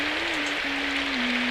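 Steady rain hiss in the game Symphonic Rain, a constant broadband wash at even loudness with a faint sustained tone running beneath it throughout.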